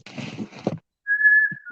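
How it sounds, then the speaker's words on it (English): A person whistles a single sustained, clear note in a dark attic of an 1800s house, following a stretch of talk and ending with a soft bump. "Whistle."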